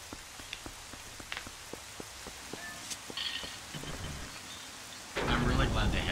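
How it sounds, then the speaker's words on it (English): Rain with rolling thunder in Twilight Princess HD, at Hyrule Castle: steady patter of rain with scattered droplet ticks, rumbling thunder building midway and a sudden louder surge of downpour near the end. "I'm really glad they have rain going for the graphics"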